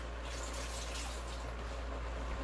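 Water poured into a pan of chicken chow mein vegetables, a faint steady trickling wash that runs continuously for a couple of seconds with no voices.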